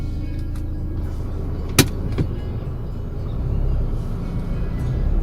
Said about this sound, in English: You'd really love the way this car pulls off from low speeds.